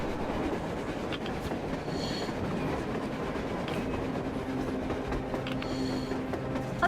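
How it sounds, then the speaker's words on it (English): A train rolls along rails on the surface in the video game Metro Exodus, a loud, continuous rumble with clattering wheels and a brief metallic squeal, filling the whole stretch without talk. "A train! A damn train on the surface!"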